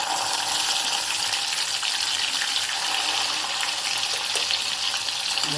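Dry spice masala frying in hot oil for Kolhapuri mutton sukka, a dense, continuous close sizzle with light stirring scrapes and no voices.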